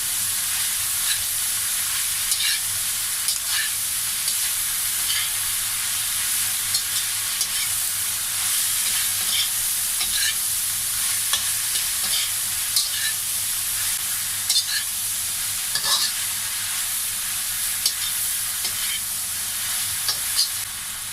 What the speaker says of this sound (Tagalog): ilalagay na po natin itong ating cabbage. Hahaluin lang natin siya for 1 minute.